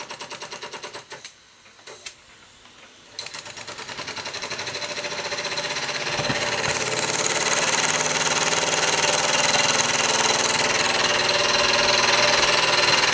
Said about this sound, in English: I am well happy with my one and only Czech model steam engine